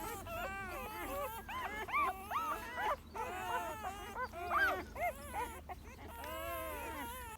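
Several abandoned puppies whimper and wail in overlapping, high-pitched cries, near and fairly loud, with brief gaps between bursts of crying.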